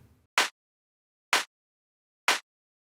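A saturated, dirtied-up electronic clap sample for an EDM track hits three times about a second apart, each a short, bright, crisp burst, isolated against silence.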